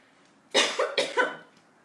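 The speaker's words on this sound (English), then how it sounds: "Excuse me, I just have something in my throat." A woman at home cooking risotto gives a short burst of throat-clearing coughs, about three rough hacks in quick succession, close and fairly loud with no talking.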